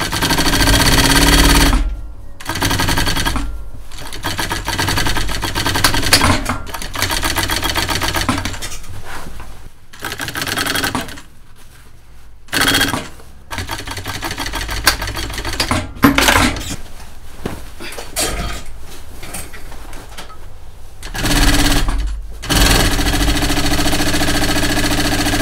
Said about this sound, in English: just sewing those pattern pieces together that I cut. Very simple, just a stitch, no overlocking